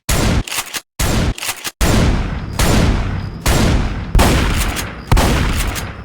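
Scrap-cannon shotgun blasts from Left 4 Dead 2, a trash gun firing shrapnel: about eight loud, sharp booms come in uneven bursts, each with a ringing tail, with brief silences between the early shots.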